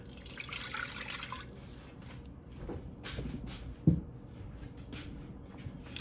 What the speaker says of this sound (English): I need to start with 1 1/4 cup warm water.